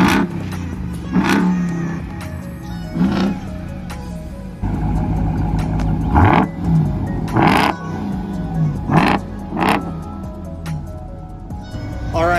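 Two trucks, a 1000-horsepower Hennessey Mammoth TRX Havoc Edition and a stock TRX, rev their engines in turn, with loud repeated roaring bursts rising over a steady idle rumble at close range.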